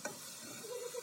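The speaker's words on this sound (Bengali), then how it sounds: "আস্তে জাল দিয়ে ভেজে নেব" Semolina mango cake pieces frying on low heat, a faint, soft continuous sizzle with a small tap at the start and no talking.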